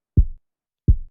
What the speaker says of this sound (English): here's a good example of a bad kick drum